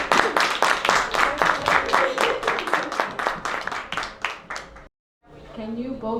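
Audience applauds for two DJs at a community folk culture program, a steady wash of clapping lasting several seconds before a brief silence, then a voice begins speaking.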